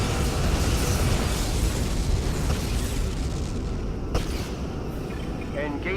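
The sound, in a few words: Romulan vessel exploding, Star Trek Legacy video game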